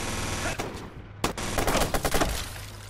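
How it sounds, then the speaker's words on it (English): Full-auto machine gun fire in the PS4 game Watch Dogs: several rapid bursts crackle close and loud, separated by brief pauses, with a sharp single report near the middle. "And they've got full auto machine guns"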